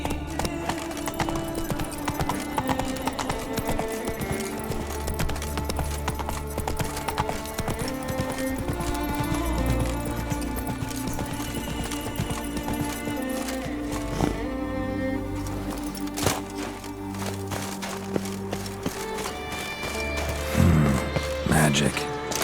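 Roach's hooves clop steadily beneath a busy mix of music and game sound in The Witcher 3, a fairly quiet, continuous rhythm, with a voice speaking over it.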